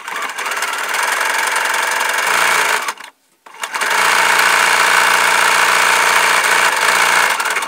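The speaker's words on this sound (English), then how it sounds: "I'm going to switch to a zigzag stitch, and I am going to go right down the middle of my tape." Sewing machine stitching a zigzag seam down the middle of taped faux fur, a steady loud mechanical whir that stops briefly near the three-second mark and then resumes, running on without any talk.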